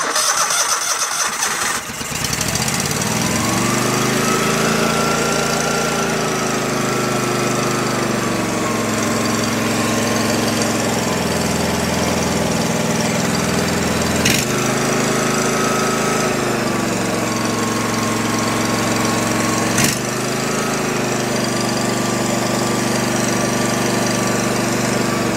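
Small engine of an old Go-For digger bought at an estate sale runs steadily after starting with a short burst, its loud, droning note rising and falling in pitch while it struggles to drop back to idle; no one talks.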